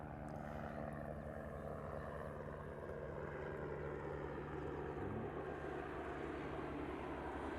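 A Qantas airliner arriving at Honolulu airport makes a faint, steady engine roar that carries through the whole stretch, with no voices over it.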